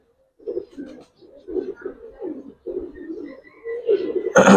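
Pigeons from a single farm coo in soft, repeated throaty bursts close by, a string of rolling calls with short pauses between them and a brief rustle at the end.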